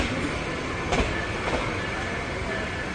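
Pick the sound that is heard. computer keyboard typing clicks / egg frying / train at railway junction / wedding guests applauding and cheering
train at railway junction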